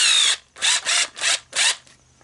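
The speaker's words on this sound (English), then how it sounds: "I just put the drill in reverse" A power drill running in reverse to remove a stuck chuck whirs in four short bursts after one longer run, loud and close, with brief pauses between each spin.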